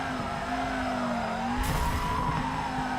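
Car drifting and sliding in the FURIDASHI Drift Cyber Sport racing game, a steady engine drone with a sustained tire squeal and skid that flares louder midway, continuous and close.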